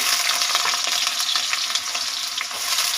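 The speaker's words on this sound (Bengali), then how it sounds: "আলুটাকে ভেজে নিচ্ছি" Small diced potatoes fry in a pan with black cumin seeds, giving off a dense, steady sizzle with crackles close up as they are stirred.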